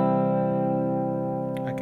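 An electric guitar rings out one sustained dry note without reverb, steady and close, fading slightly before a few faint string noises at the end.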